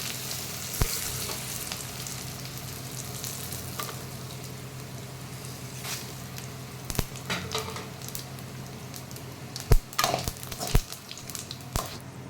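Coriander seeds, cumin and garlic fry in a pan with a steady close sizzle, broken by occasional sharp clicks and scrapes of a utensil stirring against the metal.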